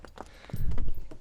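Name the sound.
donkey hooves clip-clopping on trail at Petra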